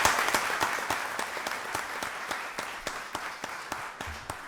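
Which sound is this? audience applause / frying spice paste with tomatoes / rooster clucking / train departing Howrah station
audience applause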